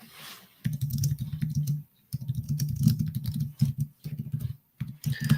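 Keys tap on a computer keyboard in quick bursts separated by short pauses, close and moderately loud, as a message is typed.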